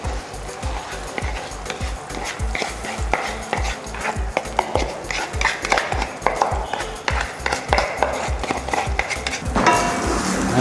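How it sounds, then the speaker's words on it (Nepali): Foxtail millet being stirred and fried in ghee in a pan over medium heat: a loud, regular scraping of a spoon against metal roughly every third of a second, over a soft continuous sizzle. "यसलाई मिडियम आगोमा चाहिँ एकछिन भुट्ने"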